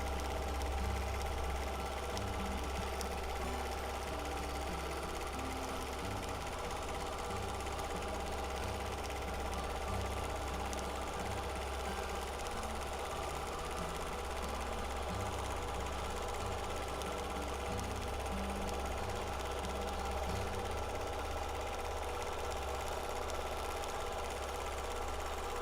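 A domestic sewing machine hums continuously during free motion ruler quilting, a steady close mechanical drone with fine rapid stitching texture and no pauses.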